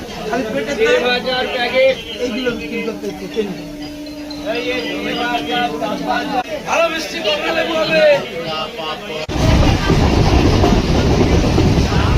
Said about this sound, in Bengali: তারপর রানাঘাট জাংশন থেকে রানাঘাট গেদে লোকাল ধরলাম আমরা